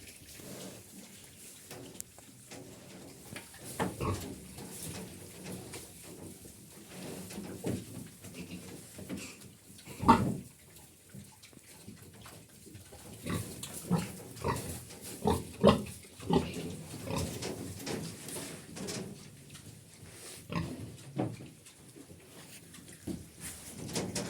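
A sow with her piglets grunts and squeals in a farm pen, soft irregular grunting throughout with several louder sharp bursts near the middle, close and unaccompanied by talk.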